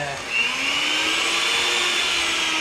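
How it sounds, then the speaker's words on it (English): Old electric mixer whipping waffle batter to stiff peaks, a loud continuous motor whine that rises in pitch at the start and then holds steady and close. "This mixer we have had for eons, but it works because things were made better back then."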